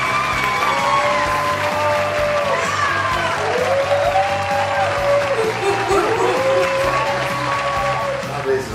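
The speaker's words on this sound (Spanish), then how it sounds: "Por eso pido un aplauso y gritos y todo lo que ustedes quieran para Marco Corleone." A live wrestling crowd applauds and cheers loudly for wrestler Marco Corleone, with steady clapping, whoops and shouts filling the space for several seconds while voices carry over the noise.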